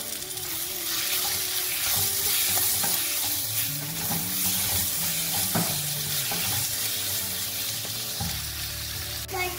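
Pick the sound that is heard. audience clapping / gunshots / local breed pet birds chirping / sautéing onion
sautéing onion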